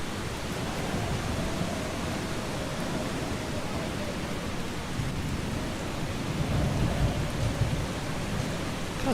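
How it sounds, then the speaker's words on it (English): Heavy rainfall with thunder rumbling in the video game Eastshade, an unbroken hiss of rain over low, swelling rumbles for several seconds. "We're getting rained on."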